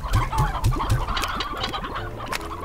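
Chickens in the video game Slime Rancher clucking in a close, busy flock, with short rhythmic clucks and squawks piling up over a steady farm ambience.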